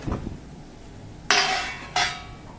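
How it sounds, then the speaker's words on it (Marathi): A metal lid is lifted off a cooking pot of green chilli and peanut thecha just after the gas is turned off: two bright, close clanks, each trailing a short metallic ring, in an otherwise quiet kitchen. "मी गॅस बंद करते झाकण काढूया"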